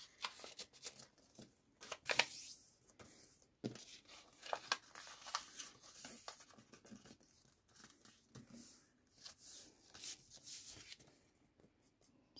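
Paper from a book page is folded around a reinforced paper tag for a junk journal, with close, intermittent rustling, scraping and crinkling as the sheet is handled and creased. No voices are heard.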